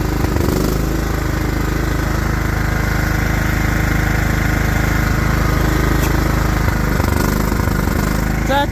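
A cold lawnmower engine with a badly clogged air filter idles roughly, a loud continuous uneven chug close by, steady throughout with small irregular stumbles.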